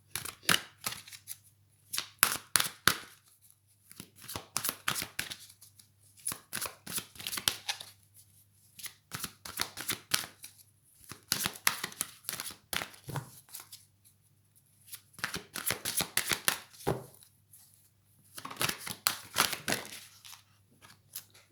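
Tarot cards being shuffled at close range, giving quiet bursts of crisp riffling and flicking separated by brief pauses, soft and without talk.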